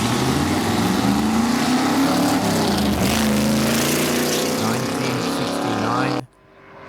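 A 1969 Chevrolet Corvette C3 Stingray race car runs a hillclimb, its V8 roaring loud and close with rising pitch through the gears before the sound cuts off sharply near the end.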